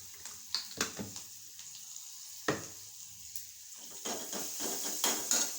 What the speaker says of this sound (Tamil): ரசம் தாளிக்க போகிறோம்.